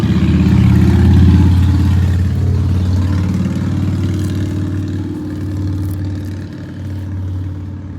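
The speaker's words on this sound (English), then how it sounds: "minus the motorcycle guy driving by" A motorcycle engine hums loudly and close, rising and fading slightly as it drives past an outdoor garden, with no talking.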